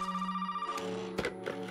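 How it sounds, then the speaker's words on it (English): A telephone rings in Resident Evil 7, a single near ring tone holding briefly before broken, buzzing bell bursts follow in quick succession. "Why is it always when I'm about to leave that the phone rings?"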